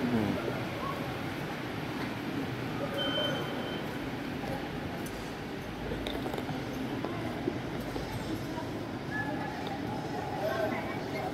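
A train at Jakarta Kota station setting off, a continuous rumble of rail cars with faint clanks and squeals in the distance, heard among background voices and station bustle.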